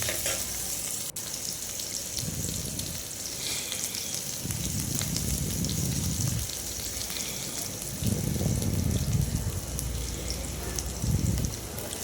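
Cloves and bay leaves frying in oil for veg biryani give a steady, soft sizzle throughout, with a few bursts of louder stirring in the pan. It is close and moderately quiet, with no talking.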